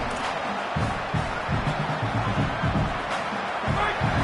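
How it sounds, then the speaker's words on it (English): A stadium crowd at a college football video game roars continuously in a dense, loud wash of cheering with some low rumbling surges. "This crowd, full throat, splitting the eardrums"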